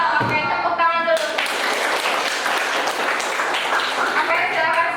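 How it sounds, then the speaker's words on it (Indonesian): A class of high school students claps for their teacher during a lesson, dense quick clapping under a voice at the start and end, loud and close in a classroom. "Oke, tepuk tangan dulu."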